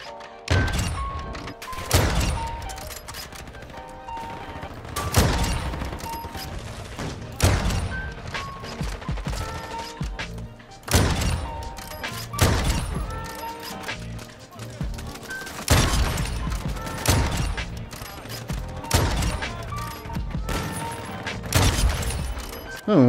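AWP sniper rifle shots in Call of Duty ring out as single loud, booming cracks spaced a few seconds apart, each with a trailing echo, while a person talks throughout.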